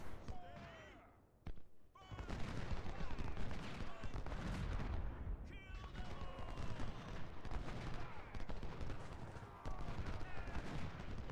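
Cannon and rifle fire from a Civil War battle in Ultimate General: Civil War, a dense, continuous rumble of booms and volleys that runs under steady spoken commentary.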